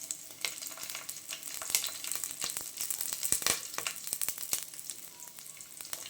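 Green chillies sizzle and crackle in hot oil with curry leaves in a home kitchen pan, a steady close hiss broken by sharp popping spatters and the occasional stir.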